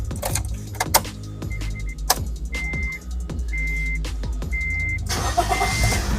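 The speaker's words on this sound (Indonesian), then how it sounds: "sekarang ya coba nyalain mesinnya" Honda Brio Satya CVT hatchback from 2021 being started: interior clicks and chimes, a few short beeps, then the engine catches and settles into a steady idle, heard from inside the cabin without talk.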